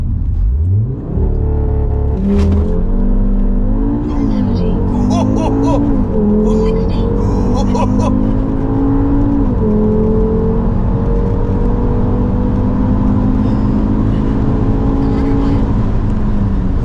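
Audi RS3 8P Stage 2 tuned to 460 bhp with Quattro launches hard in a 0-60 run, its engine note climbing through several gears with brief dips at each shift, loud and close from inside the car, with people talking excitedly over it.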